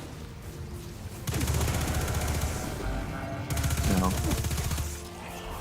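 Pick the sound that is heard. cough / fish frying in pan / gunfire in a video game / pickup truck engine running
gunfire in a video game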